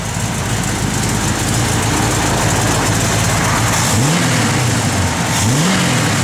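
A 1974 Plymouth Cuda's loud, lumpy V8 idles with a rough cam chop, then revs twice in quick rising blips, heard close up with constant rumble.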